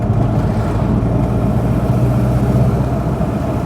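Steady engine drone from a Subaru MV284 Brumby with a 4-speed gearbox at road speed: a constant, fairly loud mid-low hum with no breaks.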